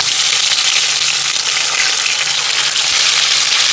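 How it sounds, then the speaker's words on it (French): Tomatoes frying in a pan for an African dish, a loud, constant close sizzle with a faint low hum beneath and no talk. "je vais commencer par faire revenir mes tomates."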